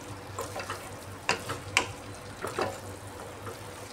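Okra sautéing in a pan with green chillies for dahi bhindi, a soft steady sizzle broken by a few sharp scraping stirs of a spatula, close and moderately loud, with no talking.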